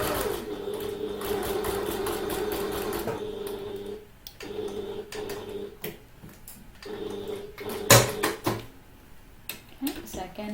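A sewing machine stitches a handbag in fast, steady runs that stop and restart, with short pauses and small handling clicks between bursts, loud and close.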